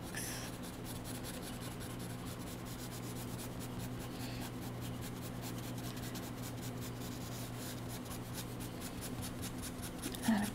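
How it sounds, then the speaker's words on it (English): Graphite pencil strokes shading feather texture on paper while sketching a Canada goose, a steady close scratchy rubbing that continues without pause. "Right now we're just starting to create a little bit of texture here with our pencil strokes."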